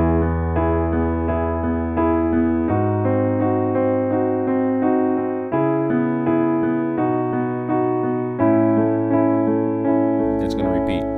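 Piano playing the chord progression of a song, a steady, close series of sustained chords moving through several changes, with no talking over it.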